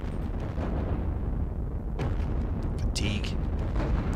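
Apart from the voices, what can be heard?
infantry guns firing on mortars in video game Panzer Battles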